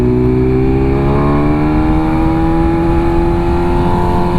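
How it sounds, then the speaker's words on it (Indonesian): A BMW S1000RR M Package sport motorcycle roars loudly at close range during a test ride, its engine note sliding down in pitch as the throttle closes, with a constant dense wind-blasted exhaust drone. "Crackles ya. Pas kita tutup gas."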